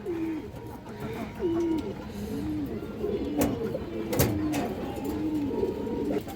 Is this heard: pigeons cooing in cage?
yes